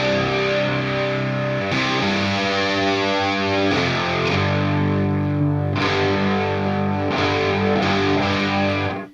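Distorted electric guitar run through a pitch detuner effect, thick chords with low end creeping in beneath, strummed in sustained blocks with several chord changes, loud and close with no talking.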